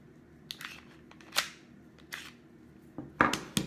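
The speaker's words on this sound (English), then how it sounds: "Loading it, just slide it in, pop it in." A magazine is slid and snapped into a Beretta M92 BB pistol, several sharp close metallic clicks and clacks spaced apart, ending in a firm seating click.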